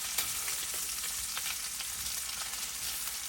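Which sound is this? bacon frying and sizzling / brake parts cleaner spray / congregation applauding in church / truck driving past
bacon frying and sizzling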